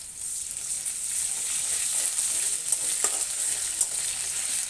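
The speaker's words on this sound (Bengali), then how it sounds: "আদা রসুন একসাথে আর পেঁয়াজ একসাথে ভাজা হয়ে আসছে" Onion and ginger-garlic paste frying together in a pan for a pangas fish and brinjal curry, giving a soft, constant hiss of sizzling oil with a few faint stirring knocks, close by and without speech.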